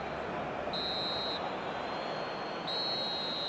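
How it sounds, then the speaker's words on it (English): A referee's whistle in eFootball 2025 sounds twice, each a steady shrill blast of under a second, over loud stadium crowd noise. "Added time is up, and there goes the whistle."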